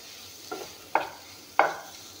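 Spices fried in a pan with cumin-pepper powder: a low, quiet sizzle under three separate stirring scrapes, each sharper and louder than the last, spaced about half a second apart.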